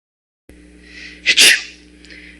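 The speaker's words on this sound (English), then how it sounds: "You've been sneezing a lot lately." A single sharp, close sneeze after a brief inhale, breathy and loud, with no talking around it.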